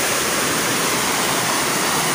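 High, strong river water rushes through a mahogany forest, a loud, continuous, close wash of churning flow with no gaps and no voices.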